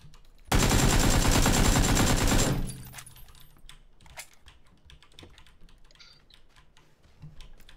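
Rapid automatic gunfire in the PUBG battle-royale game, a dense loud burst lasting about two seconds, followed by scattered quieter clicks and taps.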